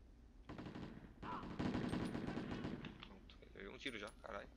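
Rapid bursts of gunfire in the PlayStation game Delta Force, rattling automatic shots close and loud, mixed with a person talking over the action.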